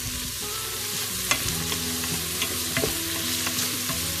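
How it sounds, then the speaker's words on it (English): Onions and garlic cloves frying in a pan for lamb pilau, a constant close sizzle with a spoon stirring and occasionally clinking against the pan, no voices. "Give that a little stir around."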